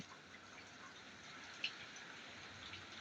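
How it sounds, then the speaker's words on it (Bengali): A steady, even hiss of fine water spray from an overhead sprinkler in a broiler chicken farm, pattering down like light rain, continuous and fairly soft, with one brief sharper drip partway through. "এই যে উপরে দেখছেন বৃষ্টির মতো ঝর্ণা পড়ছে"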